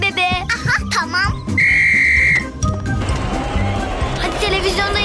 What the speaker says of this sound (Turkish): Çal düdüğü bebe.